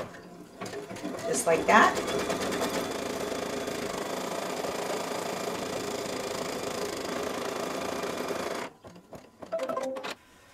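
A Kimberbell embroidery machine stitching a fabric placement line runs with a steady, rapid mechanical hum and needle patter for most of the stretch, stops, then briefly restarts; someone speaks near the end.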